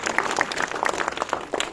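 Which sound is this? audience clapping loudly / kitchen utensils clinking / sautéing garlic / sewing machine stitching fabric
audience clapping loudly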